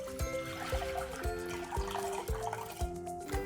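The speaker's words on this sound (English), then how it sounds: "first what we're going to do is add in our lukewarm water." Lukewarm water runs into a deep, clear glass baking dish, a soft steady trickle with faint pouring texture. It sits low and close beneath a louder, rhythmic musical backing.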